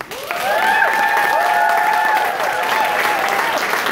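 Applause from a concert fundraiser crowd rises quickly and holds as sustained clapping, with a few cheers and whistles ringing over it.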